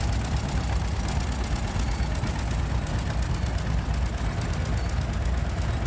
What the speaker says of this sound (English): The tractor pull, or the tractor parade.